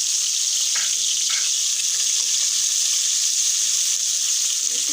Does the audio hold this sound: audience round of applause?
no